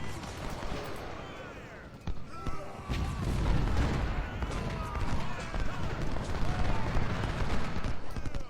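Musket and cannon fire from a Civil War battle in the strategy game Ultimate General: Civil War, a dense, continuous rattle of volleys and booms that thickens after the first couple of seconds and rolls on steadily.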